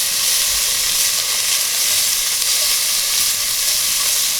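Four ounces of salt pork fry in a pan with a loud, steady, close sizzle and hiss that holds evenly throughout, with no voices.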